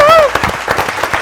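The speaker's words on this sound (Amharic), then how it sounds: "አጨብጭቡለት እንጂ" A studio game-show audience claps for the winner of a round: a brief burst of many hands, loud and close, with a short whistle-like tone at the start.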